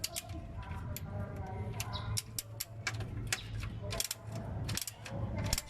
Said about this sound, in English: I'm gonna use the ratchet to make it easier